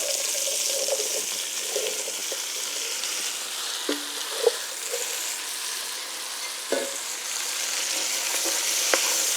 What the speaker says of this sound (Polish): I warzywa przesmażę na tłuszczu, jaki został wytopiony z boczku.